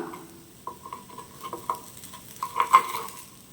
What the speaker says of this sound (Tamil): இப்போ ஒரு பக்கம் வெந்திருக்கு, இதை நம்ம நல்லா திருப்பி போட்டுக்கலாம்